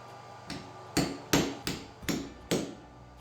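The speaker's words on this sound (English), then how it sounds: "Here I punch the holes so I can sew the two sweatband ends together." A tool punches holes through a leather hat sweatband in six sharp knocks, evenly spaced and close, with quiet gaps between the blows.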